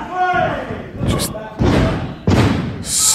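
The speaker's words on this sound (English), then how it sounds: "stomping a mud hole into RJ Singh" A wrestler stomps an opponent on the ring mat at a pro wrestling match, three or four heavy slamming thuds in a row, loud and close, with commentary running over them.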